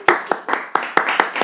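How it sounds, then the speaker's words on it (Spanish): A studio team on a Christian interview show claps in a brisk, even rhythm. The sharp, close hand claps come about four or five times a second for a short burst. "Y queremos darte un aplauso con mi equipo"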